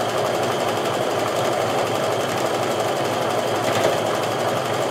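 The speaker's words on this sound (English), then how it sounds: "So I'm going to go ahead and sew that top piece on." Sewing machine stitching the top piece onto a star block for a patriotic Quilt of Valor, running in a steady continuous whir throughout without pause.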